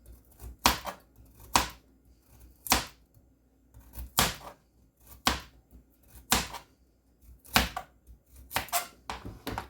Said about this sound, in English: Adjust your volume accordingly if the chopping's too loud